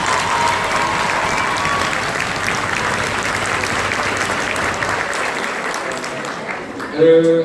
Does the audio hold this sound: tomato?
no